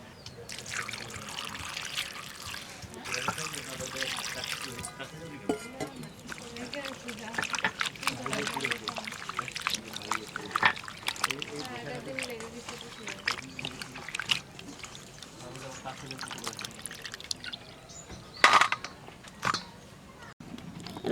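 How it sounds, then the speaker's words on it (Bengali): Cold tap water runs and splashes over dried fish being washed by hand, a steady trickling pour with intermittent handling noises and brief louder splashes throughout, with a voice speaking at times. "তারপরে আবার ঠান্ডা জল দিয়ে ধুয়ে নেবা"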